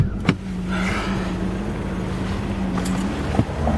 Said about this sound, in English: A little bit windy outside, so the audio might be bad